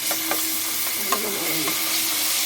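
Minced garlic fries in a mix of oil and ghee with a steady close sizzle, and a spoon stirs the pan in a few soft scrapes. No one speaks.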